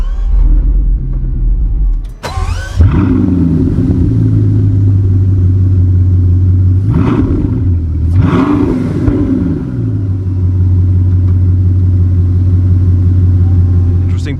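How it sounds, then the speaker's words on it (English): A Bugatti Chiron Super Sport's 1600 hp engine cranks and fires up at about two seconds, settling into a deep, steady idle with two loud revs around seven and eight seconds before dropping back, close and dominant. "for the first time ever, I will start a Chiron or a Bugatti in general, and yeah, let's just listen to that sound."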